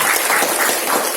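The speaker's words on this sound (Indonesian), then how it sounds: "tepuk tangan" A seminar audience applauds with a dense, loud, unbroken patter of many hands clapping together, filling the room for a short burst.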